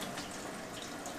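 Water pours steadily from the tap of an Enagic SD501 Kangen water ionizer running wide open, a continuous quiet hiss of flowing water with no talking.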